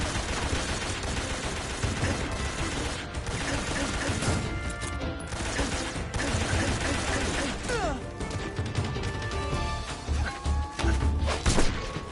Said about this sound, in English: When you get shot, you'll sometimes suffer a gunshot wound.